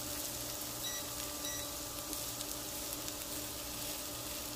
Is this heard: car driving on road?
no